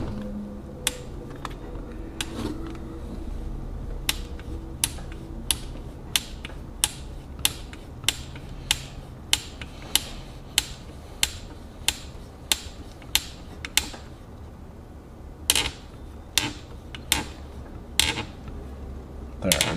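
A bolt is tightened with a ball nose hex driver during a model build, giving a long series of sharp, evenly spaced ratcheting clicks close up that pause briefly near the end and then resume.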